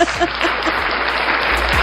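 Brief burst of audience applause, a crowd clapping in a dense, even patter for under two seconds without talk.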